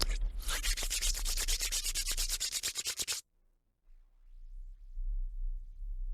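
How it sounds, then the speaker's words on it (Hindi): Two hands rub briskly together in steady rhythmic strokes for about three seconds, close and loud, followed by near silence and a faint low rumble. "दोनों हाथ रब करके अपने आंखों में लगाइए"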